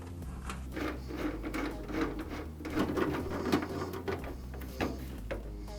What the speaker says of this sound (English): I'll secure the grill with the screws.